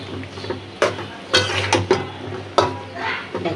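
Green banana pieces being sautéed in a pan, a soft low sizzle broken by several sharp scraping stirs of a spatula against the metal, close and moderately loud.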